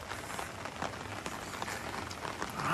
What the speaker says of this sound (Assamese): অলপ অলপ বৰষুণ আহিছে